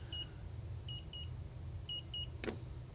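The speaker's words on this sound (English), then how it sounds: "That makes the buzzer go." The buzzer of a digital clock kit gives short electronic beeps in quick pairs and singles, clear over a low steady background hum, followed by a brief click, and nobody speaks.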